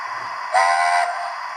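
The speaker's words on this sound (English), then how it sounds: "F3, chime whistle short." A short, bright chime whistle blast from a Hornby Mallard model steam locomotive, lasting about half a second over a soft background hiss.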